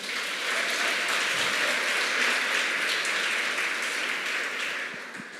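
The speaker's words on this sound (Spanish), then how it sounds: "Dale un aplauso al Señor." A church congregation bursts into sustained applause, a dense steady wash of clapping that holds at full strength for several seconds before easing slightly at the end.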